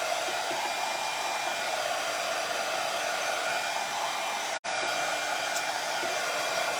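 A close, steady whoosh of a hair dryer drying a painted pumpkin, running continuously with one brief dropout partway through.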